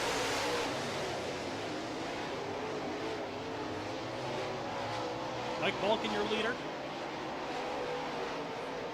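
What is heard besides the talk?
dirt track late model race cars racing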